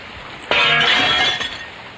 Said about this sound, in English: Pick up the glass, place it into the putty like that and press it into place.